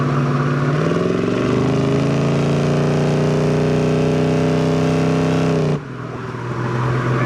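A 1973 Dodge Charger Rallye V8 with aftermarket dual exhaust revs up steadily, its pitch climbing for several seconds before the throttle drops off to a lower idle rumble, loud and close with no talking.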